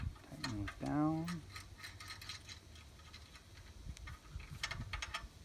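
Small metal clicks and ratcheting as riser cable fittings are tightened on a parachute container, close and fairly quiet, with a brief voice-like tonal sweep near the start.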